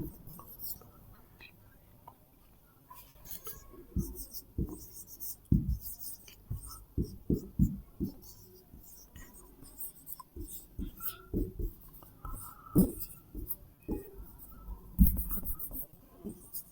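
A teacher writes on a board in a classroom, producing a series of short tapping and scratching strokes in irregular bursts, close and fairly quiet, with faint whispery voices in the background.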